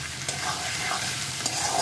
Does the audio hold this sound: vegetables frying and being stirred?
yes